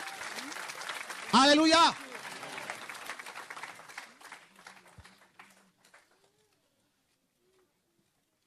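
A church congregation applauds and cheers with scattered clapping that tapers off over several seconds into silence, while a voice sings out a single word at the start.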